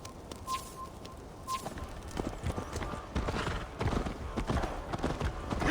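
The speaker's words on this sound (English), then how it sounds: "Faster, Eivor! Ride like Sleipnir's hooves!" Horse hooves clatter in a quick galloping rhythm in Assassin's Creed Valhalla, steady and fairly close, with occasional bird calls and faint creaks in the background.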